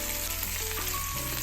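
Onion, garlic and ginger sizzle and fry together with oxtail for a brown stew, a steady close crackling hiss with faint stirring and no talk.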